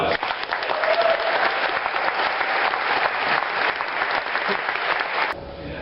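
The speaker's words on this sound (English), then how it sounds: "give the people with the media here a round of applause." A crowd at the Winter Soldier veterans' hearing in Austin, Texas breaks into sustained, dense applause, loud and close, holding steady for about five seconds before cutting off abruptly.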